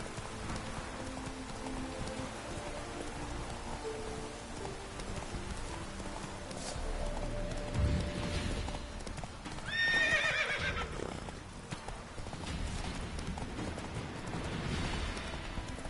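Hooves clip-clop steadily as a horse moves through rain in The Witcher 3, with rain patter throughout and a whinny partway through, a game soundscape with no speech.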